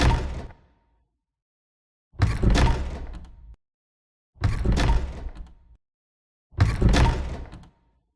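Historical door sound effects from a sound library: four separate heavy wooden door slams or thuds, each a loud booming impact with a short decaying rattle, spaced about two seconds apart with silence between.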